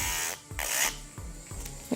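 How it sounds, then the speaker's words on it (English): An electric nail drill files fingernails while snow globe nails are being done: a quiet, close-up grinding whir in short uneven bursts, with scraping pauses between passes. "Let's get out the drill. I have this drill by my cart."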